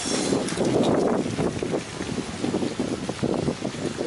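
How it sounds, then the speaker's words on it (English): Strong wind buffets outdoors on a beautiful day, a continuous rough roar with gusty surges that stays loud and close throughout, without any talk. "I can't fly anything today because it's too damn windy"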